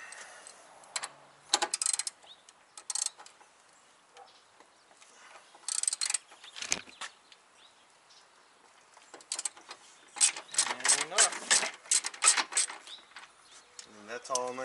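Ratchet socket wrench on a motor mount bolt of a MK4 Volkswagen Golf, heard as close, sharp bursts of clicking in uneven spurts, the last stretch busier and louder.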